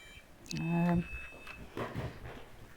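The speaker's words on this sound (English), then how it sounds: "Bluetooth device is ready to pair. Power off." A Bluetooth device sounds a short electronic power-off tone, a steady rising beep lasting about half a second, and a synthetic voice prompt plays around it in a quiet room during a paranormal investigation.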